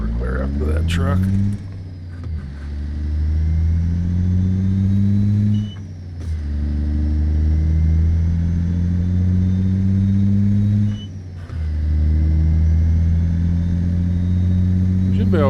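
A truck engine in American Truck Simulator drones loudly and continuously from inside the cab, its pitch rising and dipping through gear changes, with talk over it.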